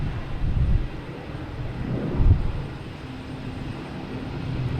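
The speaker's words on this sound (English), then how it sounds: "We got a Cape Air here, cheating, taking off 4 right" A Cape Air plane takes off from runway 4 right at Boston Logan Airport, a moderately loud engine drone with some wind buffeting, swelling briefly midway before settling into a steady hum.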